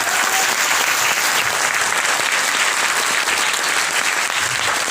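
Sustained, dense applause from a large audience at a network marketing seminar fills the space, steady and loud throughout without any speech.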